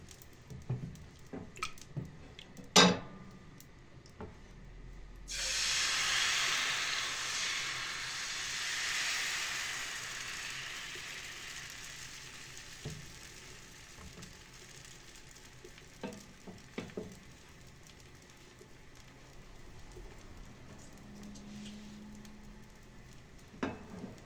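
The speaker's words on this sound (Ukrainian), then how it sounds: "ми можемо розпочинати смажити" Pancake batter hits a hot pan with a sudden loud sizzle that slowly fades to a steady frying hiss, with occasional small clicks and taps.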